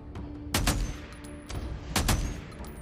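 Gunfire in the video game Days Gone, four or five sharp shots in quick pairs, punchy and fairly close, with a faint tone lingering between them.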